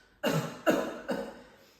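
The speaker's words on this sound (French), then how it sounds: "Tu mets une main sur le ventre et tu tousses." Three quick coughs in a row, close and fairly loud, each one trailing off, with nothing else around them.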